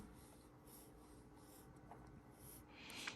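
A pen scratches a zigzag line up and down on paper while sketching a cupcake wrapper, a soft continuous rubbing with rhythmic strokes, faint and close, ending in a slightly louder scrape.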